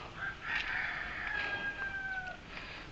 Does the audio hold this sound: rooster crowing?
yes